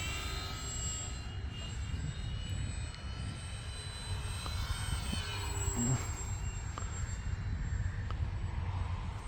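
Steady roar of an airplane engine in flight, loud and continuous throughout with no voices.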